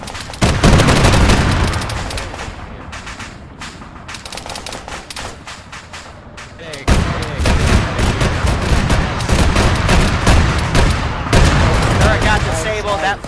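An armored vehicle turret exploding in the Arma 3 video game, heavy booms and bursts of gunfire crackling in dense volleys, with a loud blast partway through and voices talking over the battle.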